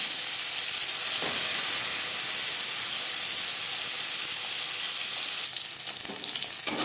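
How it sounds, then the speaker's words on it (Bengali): Marinated Bhola fish frying in three spoons of hot refined oil, a loud, steady, hissing sizzle close by that holds throughout, with faint spatters and a few stirring scrapes near the end. "তিন চামচ রিফাইন্ড অয়েল গরম করে নিয়েছি এবার দিয়ে দেবো ম্যারিনেট করে রাখা মাছ"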